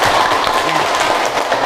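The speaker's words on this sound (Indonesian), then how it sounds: "Tepuk tangan." Students applaud in a classroom, a loud, dense wash of clapping from a group close by, steady throughout.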